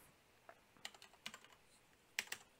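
Close, quiet keystrokes on a computer keyboard during a live coding stream, typed in short irregular bursts with sharp clicks and a final cluster of louder taps.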